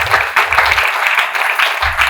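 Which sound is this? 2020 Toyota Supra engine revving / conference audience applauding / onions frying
conference audience applauding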